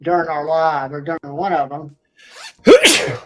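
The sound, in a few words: sneeze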